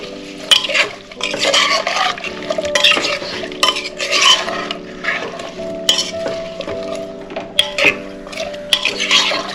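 Mixed vegetables with salt and sugar stirred in a metal pan, a close, steady run of scraping and clinking spoon strokes with faint bubbling beneath, loud and continuous, no talk.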